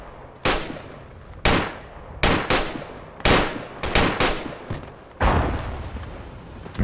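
Gunfire in a team shooter game during a fight over bunkers and a demo pit, loud separate shots and short bursts at an irregular rhythm, with a longer burst near the end.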